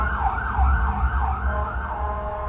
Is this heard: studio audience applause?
no